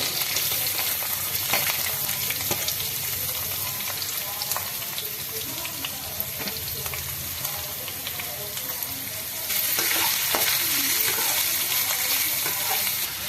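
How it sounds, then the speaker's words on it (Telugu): Onions dropped into crackling tempering oil in a kadai for Telangana-style ulavacharu, giving a loud, steady frying sizzle with occasional stirring clatter, and the hiss surges louder near the end. "తాలింపు అట్లా చిటపట రాగానే ఆనియన్స్ వేసుకోవాలి."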